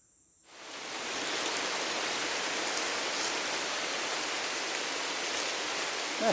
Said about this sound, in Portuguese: É chuva, galera.